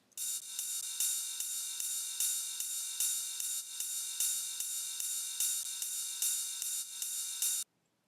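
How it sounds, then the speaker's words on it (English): Soloed ride cymbal from an electronic track, a steady repeating pattern of bright, shimmering hits that sustain evenly for about seven and a half seconds before cutting off abruptly, with no other instruments or voices. "Next I have this ride here, soloed out."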